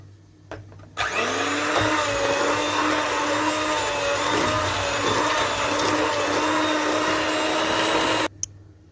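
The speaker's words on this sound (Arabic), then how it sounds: "وهنبدا نضرب السكر مع الزبده كويس جدا لحد ما احس ان السكر معايا اختفى" Electric hand mixer beating butter and sugar for a fluffy corn cake batter, a steady loud motor whine that starts abruptly, holds continuously for about seven seconds, then cuts off.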